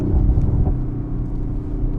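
A stock 2024 Ford Mustang Dark Horse V8 idles close by before reaching operating temperature, a deep steady rumble with loose, uneven burbling pulses throughout.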